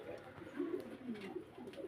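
A Roman Girl pigeon coos softly and faintly, a low throaty burbling that rolls on in short repeated phrases with no one talking.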